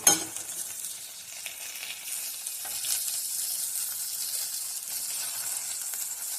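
Chopped tomato hits browned onions in a hot pan and sizzles steadily, a close, continuous frying hiss with light stirring scrapes and no talking.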